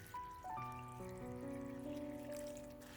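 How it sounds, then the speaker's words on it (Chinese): Plain water poured into a large bowl of shredded cabbage mixed with salt and food-grade alkali, producing a continuous trickling stream whose pitch climbs steadily as the bowl fills. "再倒入适量的清水"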